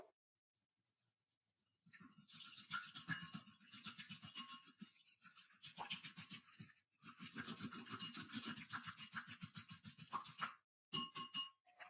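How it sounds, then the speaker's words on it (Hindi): Eggs seasoned with black pepper and salt are whisked in a bowl, giving rapid, even tapping and scraping strokes in bursts with brief pauses. The strokes are close, fairly quiet, and have no voices over them. "अब हम फेंट लेंगे।"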